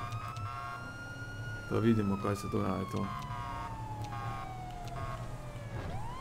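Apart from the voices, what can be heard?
police siren in video game GTA 5 LSPDFR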